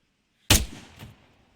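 A single sharp gunshot from a sergeant's rifle on a shooting range in a military video game, loud and abrupt, followed by a decaying echo and a faint secondary report a half second later.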